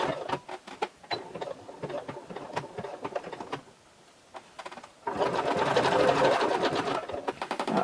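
Sewing machine running a stretch stitch on a skater skirt, rapid mechanical needle clatter in short bursts, a brief pause, then a longer continuous run, close and fairly loud.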